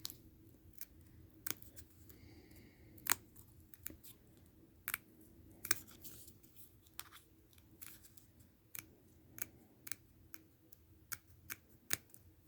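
Scissors snip craft paper for a miniature Valentine candy box, giving a string of sharp, quiet clicks and crunches at an uneven pace, close by with no talking.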